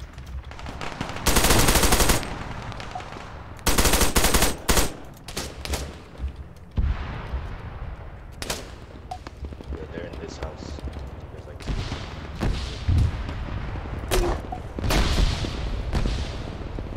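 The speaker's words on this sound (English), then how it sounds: "Oh, there's gunfire up here." Gunfire in the video game Arma 3, with loud bursts of automatic fire and scattered single shots and booms, some near and some distant, while players talk in between.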